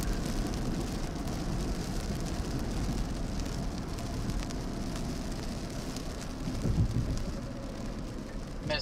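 Steady rain pours during a storm chase in Oklahoma City, a dense continuous hiss with a low rumble beneath it, heard from inside a vehicle and without any talk.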